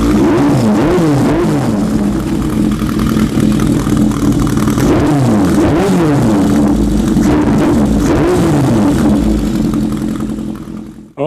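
A restored 'Basket Case' motorcycle engine runs steadily and loud up close, its low throbbing idle rising and falling in several repeated revs before cutting out near the end.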